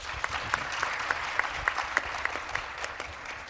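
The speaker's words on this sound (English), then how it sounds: "Please give him with a big round of applause again." Conference audience at a judicial international conference applauds a speaker, a steady round of clapping with distinct individual claps standing out near the microphone, sustained throughout.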